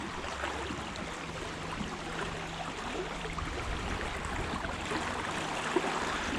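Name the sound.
fast-moving river water in a stream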